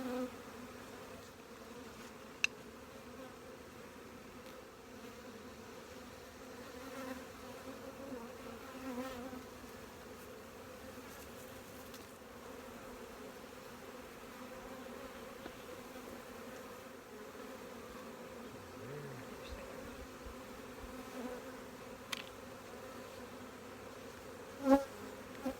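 Honeybees from open hive colonies buzz in a constant low, steady drone, faint and continuous, with a few soft clicks and knocks but no talk.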